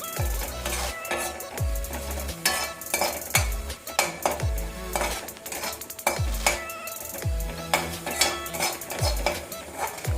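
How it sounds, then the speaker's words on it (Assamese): Spices with turmeric and salt frying in a pan for an Assamese prawn curry, stirred with a metal spoon; sharp scrapes and clinks against the pan recur rhythmically over a faint sizzle. "এতিয়া মই এইখিনি অলপ সময়ৰ কাৰণে ভাজি থাকিম"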